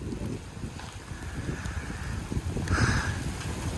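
Wind gusting across an open outdoor spot on a farm, roaring steadily into the microphone with low rumbling buffets that swell toward the end; no one speaks.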